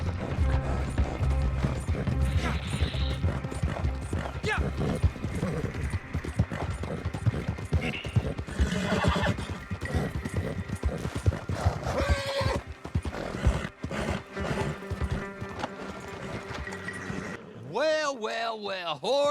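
Steady clip-clop of horse hooves runs throughout amid busy Red Dead Online game sounds, ending with a loud, quavering horse whinny near the close.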